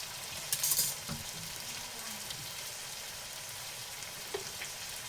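Chopped garlic and onion sizzle steadily in a hot pan for a mutton pepper fry, with a brief louder crackle near the start and then a soft, even frying hiss throughout.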